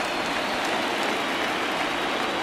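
Steady rain pours down on a baseball ballpark in the video game MLB The Show 20, a dense, even hiss with no break and no voices.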